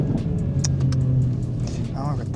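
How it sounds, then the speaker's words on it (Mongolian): A Mercedes-Benz CLA45s AMG Edition 1 exhaust gives a steady, loud low rumble throughout, under continuous speech. "Зүгээр яг яндангийн чимээ чинь жоох удаан яваад ирвэл ядаргаатай санагч магадгүй."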